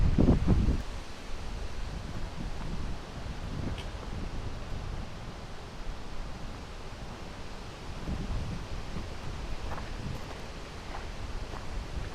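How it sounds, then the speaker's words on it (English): Wind gusts across a desert trail at Picacho Peak State Park, a broad, steady rush with soft buffeting on the microphone and a few louder bursts at the start. "The wind is blowing from the east."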